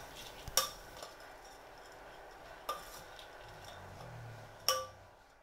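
A spoon mixes matki bhel with chaat masala and salt, giving three sharp metallic clinks against a plate or bowl with faint, soft stirring in between, quiet and close.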